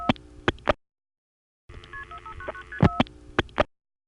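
Call being dialed through an NX1 crossbar telephone exchange: a burst of tonal signalling with a few sharp clicks, a gap of silence, then more tones and clicks, clear and close.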